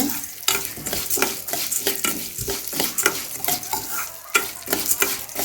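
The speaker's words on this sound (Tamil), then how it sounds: "நல்லா சிவக்க வறுத்துட்டு நம்ம தட்டில் ட்ரான்ஸ்ஃபர் பண்ணிடலாம்." Pearl millet (kambu) dry-roasts in a pan while being stirred, a close, rhythmic run of scraping, rustling grain strokes with a faint crackle underneath, no talking.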